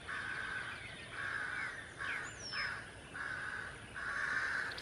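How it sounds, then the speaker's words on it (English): A bird calls out in apparent distress, repeated crow-like caws in a steady series of bursts, fairly clear over a quiet outdoor background with no talking. "I think this bird back here is having a distress."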